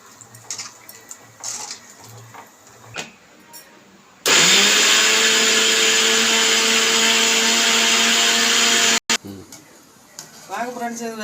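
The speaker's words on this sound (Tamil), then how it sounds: "தேங்காய், சோம்பு, கசகசா, சீரகம், வெள்ளைப்பூடு, இஞ்சி வச்சு அரைக்கிறோம்" A kitchen mixer grinds coconut, fennel, poppy seeds, cumin, garlic and ginger in a loud, steady whir lasting about five seconds, cutting off abruptly, with talk before and after.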